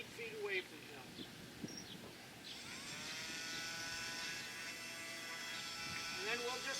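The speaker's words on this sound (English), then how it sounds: "turn the grinder on about 8 feet away from him" A grinder for trimming a horse's hooves switches on partway through and runs steadily as a sustained whine about 8 feet away. Scattered soft movement sounds come before it starts.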